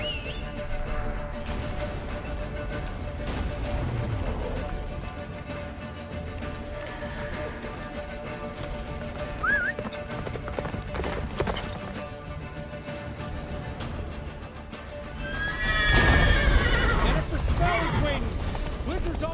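Horse hooves clip-clop at a gallop in The Witcher 3 game, a steady rhythmic beat under game music and voiced dialogue, with a louder burst of neighing and whinnying near the end.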